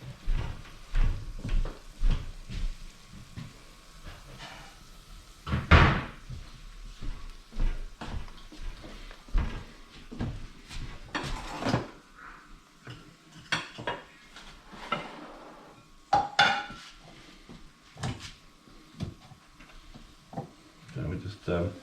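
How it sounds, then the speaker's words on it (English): Plates and cutlery clink and clatter in a home kitchen while a cupboard is opened and closed, several sharp knocks scattered among ongoing talk and cooking noises. "I'm going to get a plate, 1 minute."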